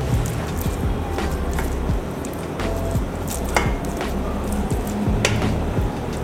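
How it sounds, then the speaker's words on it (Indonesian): Cooked rice is scooped with a large spoon into a steamer pot from a multi cookware set, giving soft wet squishes and scraping taps over a steady background hiss, close and continuous. "selanjutnya kita masukkan nasinya dengan menggunakan sendok besar"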